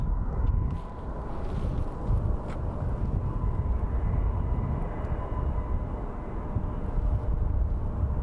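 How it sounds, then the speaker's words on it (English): A distant Airbus passenger jet at Phoenix Sky Harbor International Airport gives a steady low roar under wind noise, and the sound holds fairly even throughout. "There's our Airbus."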